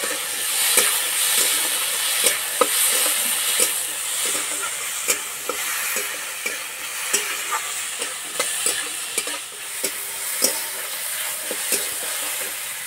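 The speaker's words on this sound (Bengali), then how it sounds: "পেঁয়াজ হালকা করে ভেজে নিয়েছি। এবার দেবো কোচানো টমেটো," Chopped tomatoes frying with onions in a pan give a steady bright sizzle, punctuated by repeated spoon scrapes and taps in an uneven rhythm, close up and without voices.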